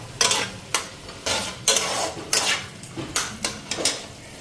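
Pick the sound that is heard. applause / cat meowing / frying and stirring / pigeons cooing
frying and stirring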